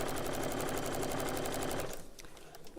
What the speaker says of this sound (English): It may not be perfect first time you sew it.